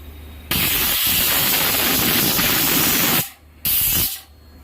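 A pressure cooker cooking khichdi vents steam in a loud, close hiss lasting nearly three seconds, cuts off, then gives a second shorter burst that fades away.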